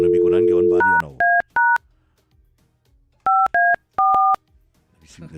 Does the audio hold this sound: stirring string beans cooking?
no